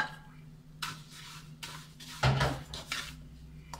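Vermicelli is stirred into melted butter in a pan, with a few close spoon clinks and scrapes against the metal, and one louder clatter partway through.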